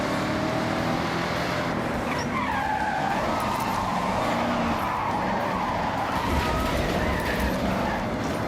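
A car in Forza Horizon 6 skids with the handbrake pulled while carrying too much speed, tires squealing in long wavering screeches over a steady engine roar, loud and continuous.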